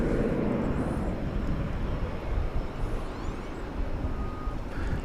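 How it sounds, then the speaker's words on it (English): An American Airlines Boeing 737-800 arrives from Jacksonville at DFW Airport, a broad continuous roar of jet engines holding steady and loud throughout. "American Flight 1171 arriving from Jacksonville in Florida, 737-800"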